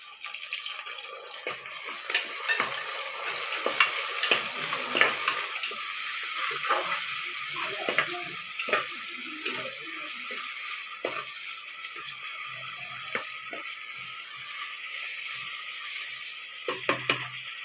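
Tomatoes sauté in a pan with a soft continuous sizzle and scattered light spatula taps and stirs, a few louder knocks near the end, close and without talk.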